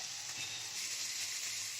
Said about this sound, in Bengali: এরপর দিচ্ছি পেঁয়াজ বাটা।